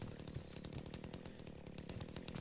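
A chainsaw cutting down trees in a tree-chopping video game, its engine buzzing steadily and loud throughout with repeated sharp rasping bursts, no voices.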